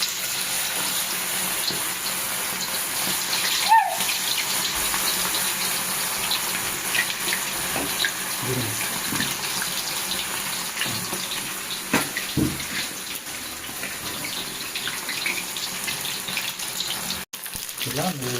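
Soaked chicken leg pieces for tandoori chicken sizzle in hot oil, a steady broadband hiss and crackle running throughout with small pops, close and moderately loud.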